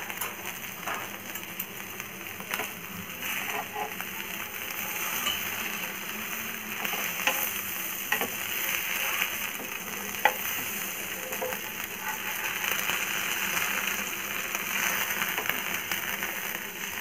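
Fish frying in oil right after being flipped: a constant crackling sizzle with scattered pops and a few soft utensil taps, close and even throughout.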